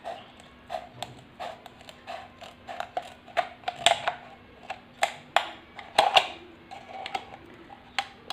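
Scissors cutting into a plastic bottle for a flower vase craft: a steady series of close, crisp creaking snips at an irregular rhythm, fairly quiet, with no talking.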